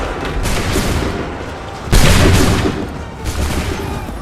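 Musket volleys in Assassin's Creed 3 Remastered, loud ragged bursts of many shots cracking together in waves, the heaviest volley hitting near the middle, with a faint voice underneath.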